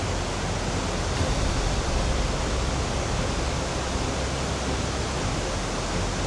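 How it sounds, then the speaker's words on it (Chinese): Guanyin waterfall in rain, swollen with runoff, gives a steady, dense roar of falling water that holds constant and close throughout with no voices. "哇，这瀑布太壮观了吧！"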